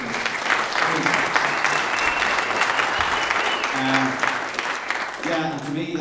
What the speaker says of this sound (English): would you give him a round of applause?